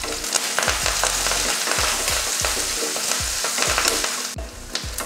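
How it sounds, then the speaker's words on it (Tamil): Onion and green chili fry in hot oil with mustard seeds and curry leaves for a cabbage stir-fry, a constant close sizzle broken by repeated rhythmic scrapes of a stirring spoon. "வெங்காயம் பச்சை மிளகாய் நல்லா வதங்கிருச்சு."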